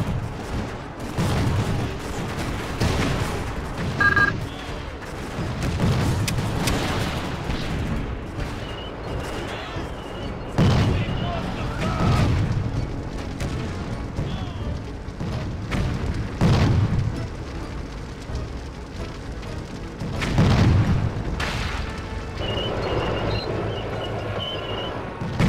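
Artillery guns fire in Blitzkrieg II, a steady series of heavy booms spaced a few seconds apart, each with a low rumbling tail, over a constant battlefield din and no speech.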